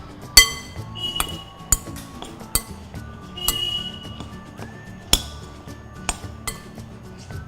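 Banana slices for a Goan rava fry are tossed with red chili powder and salt in a glass bowl, giving scattered sharp clinks and taps of a spoon against glass at an irregular pace, fairly quiet and close, with no talking.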